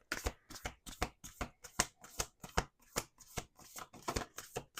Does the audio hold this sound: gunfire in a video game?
no